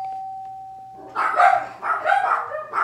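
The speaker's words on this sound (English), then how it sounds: "somebody just rang the bell." A front doorbell on Halloween night sounds a single sustained electronic tone, then dogs bark repeatedly nearby in loud bursts that take over after the chime fades.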